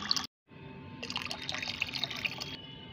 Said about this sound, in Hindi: तो मैं ये फर्टिलाइज़र इसमें डालती हूँ।